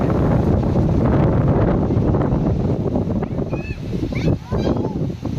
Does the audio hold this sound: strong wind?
yes